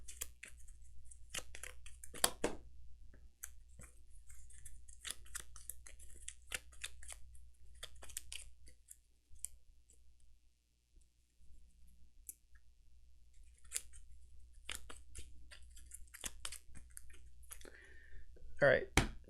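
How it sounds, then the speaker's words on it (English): A deck of Gloomhaven monster ability cards is shuffled on a tabletop, producing bursts of crisp papery clicking and riffling that come in several spurts and pauses, close to the microphone. "All right, monster deck shuffled."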